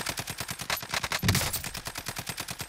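Rapid automatic SCAR rifle fire in Warzone, a steady string of sharp evenly spaced shots with a brief louder burst midway, close and continuous with no talk.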